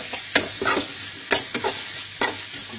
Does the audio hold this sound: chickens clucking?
no